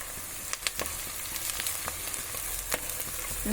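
Onions frying and stirred in a pan for foxtail millet upma, a steady close sizzle broken by several sharp scraping stirs of a spoon, no voices.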